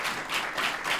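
A short burst of applause, a band of clapping hands swelling and easing in quick waves, moderately loud and close.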